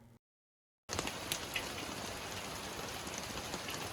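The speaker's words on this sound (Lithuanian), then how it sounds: "Va štai koks pas mus lietutis, toksai nemažas. Viskas bėga per stogą." Fairly heavy rain falling on a roof and running off it, a dense steady hiss with scattered drips, close by and continuous after a brief silent gap at the start.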